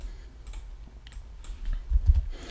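A SQL query is typed on a computer keyboard, giving soft close key clicks in short irregular bursts that grow denser and louder toward the end, with no talking.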